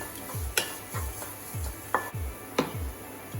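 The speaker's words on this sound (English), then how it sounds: "Put in our chopped onions. Let all the momo stuffings just need a saute." Chopped onions being sautéed in a pan for veg momo stuffing, a steady rhythm of scraping stirs with low thumps roughly every half second over a gentle sizzle, close and clear.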